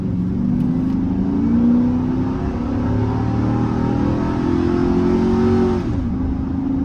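A 2005 Chevy Silverado towing a load, its engine droning steadily close by as it pulls through the gears, pitch climbing under load, then dipping sharply at a shift near the end.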